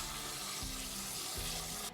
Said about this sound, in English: I actually drained that pasta water into another pot under my strainer